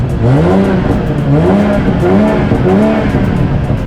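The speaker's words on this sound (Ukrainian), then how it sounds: "Послухайте, який звук має автомобіль" A BMW car engine revs continuously and loudly, pitch rising and falling in repeated sweeps as the throttle is worked.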